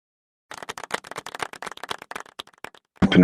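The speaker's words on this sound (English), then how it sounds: "Let's get a round of applause." Scattered clapping from a small group at a contest finals livestream, a quick uneven patter of hand claps lasting a couple of seconds before a louder burst of noise.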